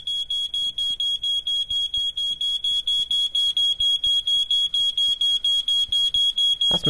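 A household smoke detector sounds a steady, rapid string of loud, shrill beeps, evenly spaced and repeating without pause, with faint background movement underneath.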